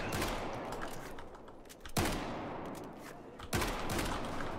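Loud, dense gunfire from the video game Battlefield 4 in Rush mode, with continuous automatic bursts and two sharp heavier blasts punctuating the barrage, no talking.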